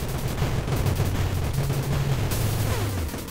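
Dense bursts of bullet fire from the top-down shooter game Monolith, a rapid, loud barrage that never lets up across the whole stretch, with no speech over it.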